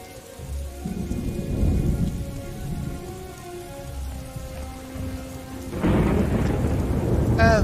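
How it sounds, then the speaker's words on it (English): Rain hisses steadily in the video game Morrowind while low thunder rumbles underneath, swelling into a louder crash of thunder near the end. "And it's raining again."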